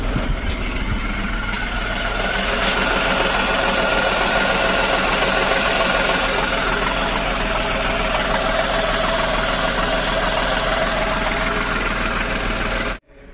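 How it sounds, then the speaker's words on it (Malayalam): A Renault Redi-Go car that broke down on the road idles after being restarted, its engine giving a steady, close, continuous rumble with slight vibration before it cuts off abruptly at the end. "അപ്പോൾ നമ്മുടെ വണ്ടി സ്റ്റാർട്ടായിട്ടുണ്ട്."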